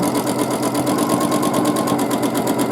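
A sewing machine stitching steadily during free motion quilting, a loud, close, continuous rapid mechanical whirr with a fast even pulse throughout.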